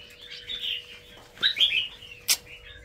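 Young birds at a bird farm chirp and cheep in high, thin bursts, close by, with a quick sharp flutter near the end and a faint steady hum beneath.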